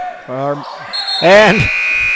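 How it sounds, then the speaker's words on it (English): A halftime buzzer sounds at a girls high school basketball game, a sustained electronic tone cutting through crowd noise and voices, with ball bounces on the court just before it. "the buzzer goes off"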